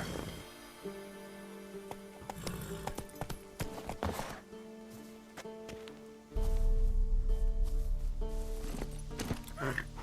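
Horse hooves clip-clopping in The Witcher 3 as the rider eases the mount to a slower pace, with a heavy low rumble joining partway through, all under a man's spoken lines.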